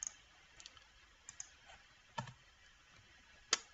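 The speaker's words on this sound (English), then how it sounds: "So basically just type out all the services you want and put a comma separation in between each one of them." Light typing on a computer keyboard, a few sparse, faint clicks with gaps between them in a quiet room.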